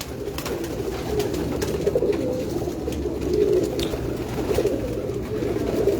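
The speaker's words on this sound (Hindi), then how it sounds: "ये टेढ़ी सलारी कबूतरी" Rooftop pigeon cooing from a Tedhi Salari female bird, a steady low murmur of overlapping coos swelling in soft waves throughout, fairly close, with faint background rustle and no clear talk.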